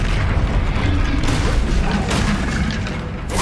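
Loud explosion spells, Confringo and Bombarda, go off in Hogwarts Legacy combat, heavy booming blasts and rumbling crashes rolling close by, with a voice speaking over the din.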